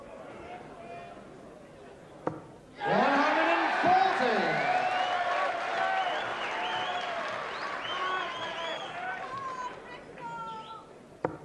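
Darts crowd at the 1991 Embassy World Championship final breaking into loud applause and cheering that swells suddenly, then tapers off gradually, with commentary voices over it.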